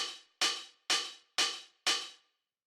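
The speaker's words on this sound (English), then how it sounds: "And then the last little drum that we have here is this hi-hat" Five open hi-hat hits from a lo-fi house drum sample, evenly spaced and each ringing out with a bright, hissy decay before the next strike, played alone with no processing.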